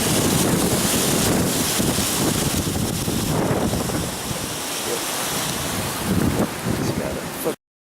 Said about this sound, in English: by the looks of this wind, and that wind blowing horizontally